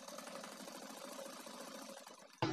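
A sewing machine stitches a zipper onto a fabric sling bag, a steady rapid mechanical whirr of needle strokes running close and continuous, then stopping abruptly with a brief clunk at the end.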